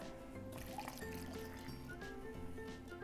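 Lukewarm water pours steadily into flour for bread dough, a continuous close liquid trickle that fills a bowl for about three seconds with no talking.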